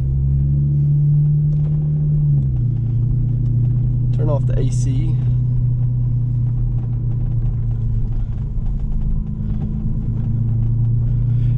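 A Genesis Coupe creeps at walking pace down a rough, cratered driveway with water-filled potholes, its engine a steady, loud low rumble throughout. A voice speaks briefly over it.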